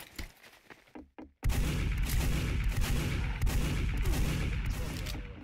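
A shotgun blast in the MGE game mode lands at close range, a sudden loud boom after a quiet stretch, followed by sustained dense gunfire and explosive noise.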